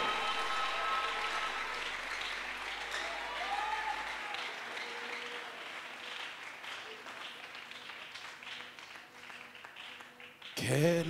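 A worship congregation at a Yom Kippur service cheers and applauds in a sustained wash of clapping and shouts. The applause thins slightly midway, then swells again near the end, with voices calling out through it.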